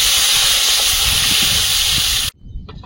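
Water poured into a hot pan of spice-fried elephant foot yam gives a loud, steady hiss for about two seconds, then cuts off abruptly to near quiet.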